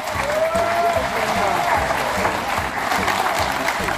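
A crowd at a mountaineering club summer gathering at Jeamsan recreation forest applauds loudly and steadily, sustained dense clapping filling the whole stretch.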